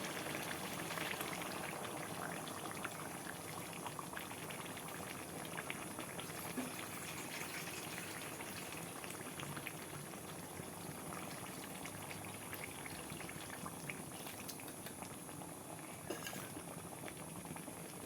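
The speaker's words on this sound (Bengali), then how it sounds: "একটু জল দিয়ে দিলাম যাতে আলুটা আর মাংসটা একটু ভালো করে সেদ্ধ হয়ে যায়" Chicken and potatoes boil in water in a pot, a continuous bubbling and popping with light pattering, steady and close throughout with no voices.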